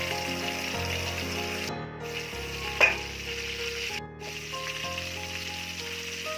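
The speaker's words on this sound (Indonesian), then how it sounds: "Kita tumis seperti ini." Shallots sautéing in hot oil in a pan give a steady, soft sizzle with a few stirring scrapes, running under background music at moderate volume.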